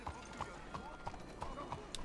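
Horse hooves clip-clop at a steady trotting rhythm in a video game, soft and fairly distant, with no talking.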